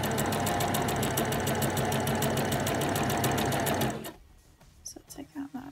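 A sewing machine stitches a denim dress with a rapid, even mechanical chatter for about four seconds, then stops abruptly, leaving soft handling sounds.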